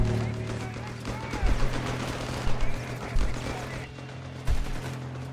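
Battle in Company of Heroes 3 as infantry squads trade fire, with steady rattling bursts of rifle and machine-gun shots and a few heavier impacts under continuous commentary.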